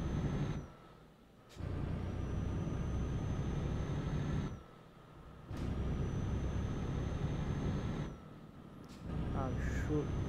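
A Mercedes Actros truck in the Euro Truck Simulator 2 video game gives a loud, steady engine drone that drops briefly three times as if between gear changes, with a high whine over it and someone talking.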